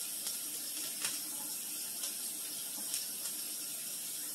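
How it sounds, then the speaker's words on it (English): Water runs steadily into a kitchen sink as cooked noodles are drained and rinsed, a faint, even hiss with a few soft splashes and no voices. "I'm gonna go ahead and drain and rinse these noodles."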